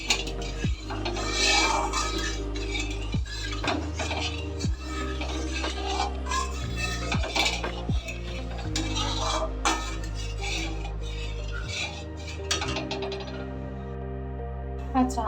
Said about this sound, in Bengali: মিডিয়াম লো ফ্লেমে দুধটাকে আস্তে আস্তে নাড়াতে থাকবেন।